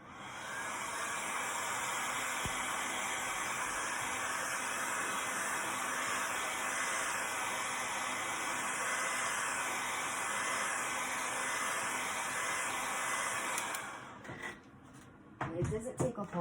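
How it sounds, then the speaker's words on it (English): Heat gun blowing hot air while softening a Dollar Tree snack tray piece for a tumbler craft, a steady loud hissing roar held close for about fourteen seconds before cutting off into handling noise. "It's a little bit hard, so I'm gonna heat this up just a hair. You just take your heat gun."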